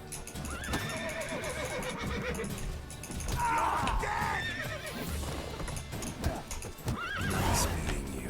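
A horse neighs and whinnies several times over steady hoof clip-clops and background video game sounds, loud and close.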